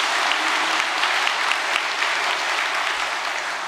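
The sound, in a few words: audience applause for world VVIP leaders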